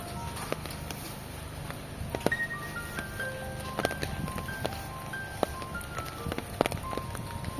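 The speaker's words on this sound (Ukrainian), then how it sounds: "Ось я і під дощик попала." Autumn rain falling outdoors, with faint scattered drops tapping on surfaces over a low steady background and a few louder isolated hits.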